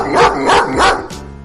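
A dog barks in a quick run of three or so close, loud woofs, followed by a brief softer yip at the end.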